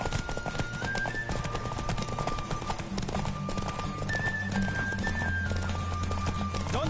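Rapid hoofbeats of a galloping horse in a Witcher video game on PS4, steady and close, with a neigh and a game-style music score playing throughout.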